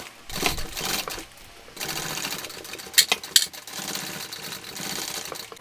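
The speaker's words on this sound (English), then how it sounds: "So all I'm going to do is sew these together using a 1/4 inch seam allowance." A sewing machine joins shoulder bag panels with a quarter-inch seam, its motor running in steady bursts with brief pauses and a couple of sharp clicks, close and alone.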